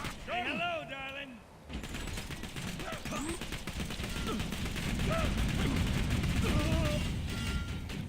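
A turret cannon fires in Borderlands 2, with rapid, continuous gunfire and bursts of impacts building in intensity, while people talk briefly at the start and voices sound over the shooting.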